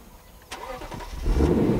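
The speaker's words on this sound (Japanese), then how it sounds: "エンジンもかけてください" A luxury car's engine cranks and fires up with a sharp burst, then settles into a steady, rising idle, heard close and loud with no talking.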